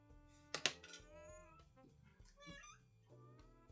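A house cat meows close by, a few short cries spread over several seconds, along with light clicks and soft room noise.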